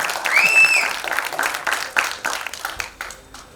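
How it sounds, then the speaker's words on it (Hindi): Crowd applause at a film trailer launch event, a burst of many hands clapping with a whistle-like tone near the start, then gradually thinning and fading toward the end. "योगराज सिंह साहब के लिए जोरदार तालियां"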